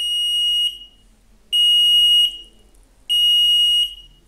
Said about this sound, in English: Of course, and the buzzer is producing,